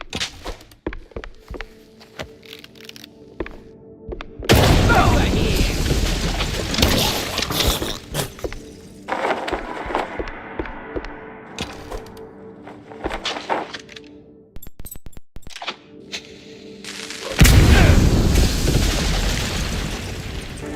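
Firecrackers explode inside a wooden attic in the video game Mouse: PI For Hire: two loud, booming blasts, one around the middle and one near the end, with softer crackles and thuds between them and no talking.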